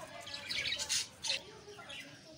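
Baby budgerigars in a cage chirp and squawk in short bright bursts, a few quick calls over a soft background, no clear talk.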